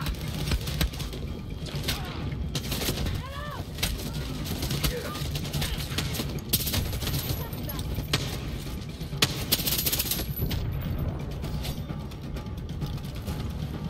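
Gunfire in the video game Far Cry 6, with repeated shots and bursts sounding over a dense layer of game noise and background music, fairly loud and continuous.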